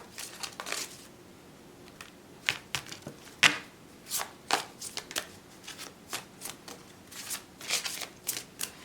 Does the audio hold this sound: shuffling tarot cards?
yes